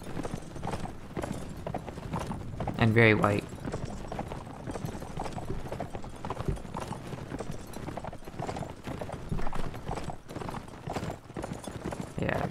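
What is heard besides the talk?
horse hooves galloping in video game Mount and Blade Warband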